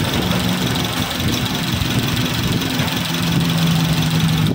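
A car engine idling with its radiator fan still off: a steady low rumble with a faint ticking knock, close by and continuous, with no voices.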